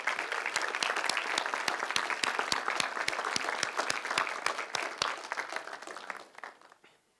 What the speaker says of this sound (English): please applaud those fantastic people.